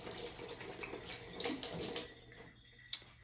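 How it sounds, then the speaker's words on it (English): A kitchen tap runs into the sink while hands are washed before preparing salmon, a close steady gush of water that eases off toward the end with a small clink. "So let me just wash my hands."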